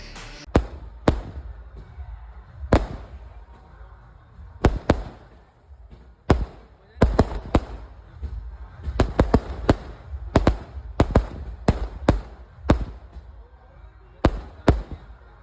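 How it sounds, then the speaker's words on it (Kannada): Firecrackers set off by Chennai Super Kings cricket fans celebrating a Royal Challengers Bangalore loss, a long run of loud sharp bangs, some single and some in quick clusters, over a crowd murmur. "ಪಟಾಕಿ ಸಿಡಿಸಿ ಸಂಭ್ರಮಿಸಿದ್ದಾರೆ ಸಿ ಎಸ್ ಕೆ ಫ್ಯಾನ್ಸ್"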